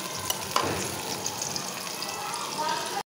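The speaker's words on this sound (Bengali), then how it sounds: "এই যে এদিকে আমি শুটকিটা দিয়ে দিছি" Dried fish (shutki) fries in oil in a home pan for a tomato shutki curry from Noakhali. A steady broadband sizzle runs throughout, with a brief clink near the half-second mark, and it stops abruptly at the end.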